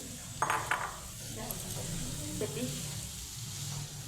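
Paneer is tipped into a hot pan while making pink rice, giving a quick clatter and splash that settles into a steady, moderate sizzle.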